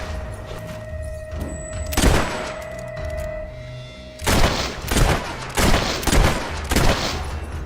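Gunfire in the fantasy game Fable III, a handful of loud, separate shots with booming tails, a couple early and then four or five in fairly even succession, with faint tonal game sounds between them.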